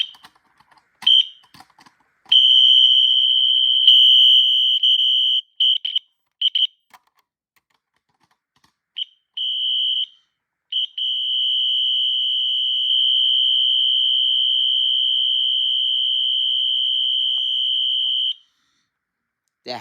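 A Wheelock NS fire alarm sounds a loud, high, steady continuous tone, first in short bursts with brief clicks between, then held unbroken for several seconds before stopping.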